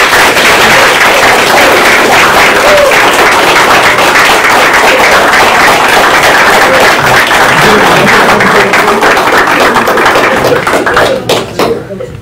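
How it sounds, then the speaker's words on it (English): A council meeting audience breaks into loud, sustained applause of rapid, dense claps for Jerry, lasting many seconds before thinning out and fading at the end. "let's give Jerry a round of applause"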